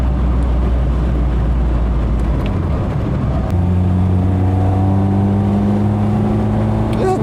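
A Lada Riva Estate (VAZ 2104) engine drones steadily from inside the moving car, its pitch climbing smoothly midway as it accelerates, with a constant low road rumble beneath.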